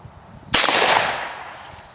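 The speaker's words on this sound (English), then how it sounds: "now we're going to do a 20-yard shot." One loud shotgun blast aimed at a target 20 yards away, a sharp crack followed by a decaying outdoor echo that fades over about a second.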